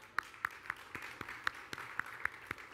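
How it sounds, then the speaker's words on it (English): A small audience at a talk event gives a faint round of applause: sparse, evenly spaced individual claps, distant and soft, over a low room hum. "You got a round of applause."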